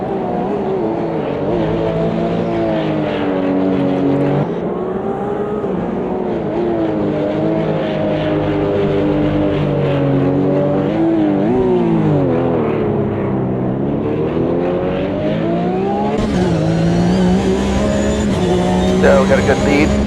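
Porsche Cup race car onboard at Long Beach, the engine roaring loud and continuous from inside the cockpit, pitch rising and falling through gear changes and corners, with a sharp climb near the end.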